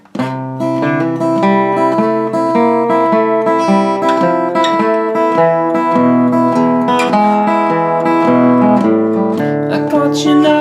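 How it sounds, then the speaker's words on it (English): Acoustic guitar plays the instrumental part of a song in C, close and clear, with ringing picked notes and arpeggiated chords in a steady flowing rhythm. "The instrumental part from C sounds like this."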